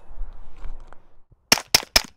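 Suppressed .45 pistol firing, with three sharp, loud shots in quick succession near the end after a quieter, muffled opening stretch.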